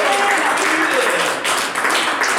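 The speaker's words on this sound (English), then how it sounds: "Everybody round of applause for Zelda!" Audience applause for an improv performer at a live comedy show, a dense wash of clapping that stays steady and fairly loud for the whole stretch, with some voices mixed in.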